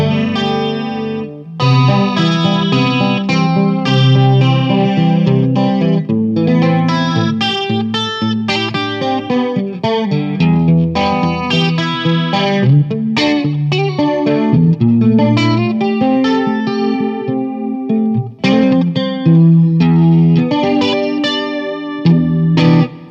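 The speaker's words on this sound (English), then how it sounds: "Super, super nice chorus sound." Guitar run through a lush chorus effect from a Strymon Deco pedal, shimmering and wavering as chords and melodic lines ring out continuously, fairly loud with no voices.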